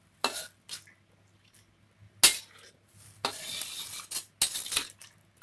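Coconut milk being stirred into a pot of potato kalio with minced meat, intermittent scraping and clinking of a spoon against the pan in short bursts separated by quiet gaps, close by.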